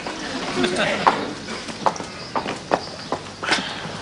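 Horse hooves clip-clop on hard ground at a walking pace, a handful of distinct knocks at close range under people talking.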